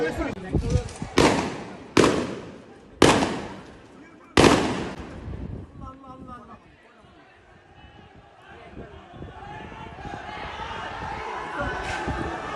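Police firing tear gas shells and guns at students in Jatrabari: four loud, sharp bangs roughly a second apart, each echoing and fading, followed by a low rumble of distant crowd noise.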